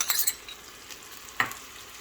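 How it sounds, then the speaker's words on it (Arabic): Potatoes frying in oil in a pot, a soft sizzle with a few sharp clinks of a utensil, close and fairly quiet. "طنجرة حطيت زيت، بدي اقلي البطاطا"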